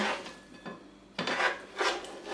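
Chopped apple, leek, onion and pickles are scraped and tipped into a bowl for a salad, giving close, rough scraping and clinking strokes in a few separate bursts with no talk.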